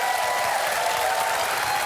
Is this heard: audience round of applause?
yes